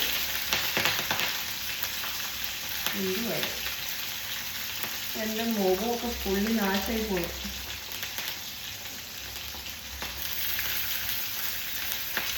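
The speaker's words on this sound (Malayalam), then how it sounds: "ഈ കടുകൊക്കെ പൊട്ടി വന്നിട്ടുണ്ട് കേട്ടോ" Mustard seeds spluttering in hot oil, a dense crackling sizzle with sharp scattered pops close to the pan, continuing under a voice speaking in short bursts.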